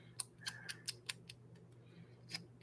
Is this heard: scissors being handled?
yes